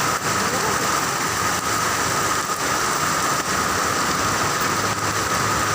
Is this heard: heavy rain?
yes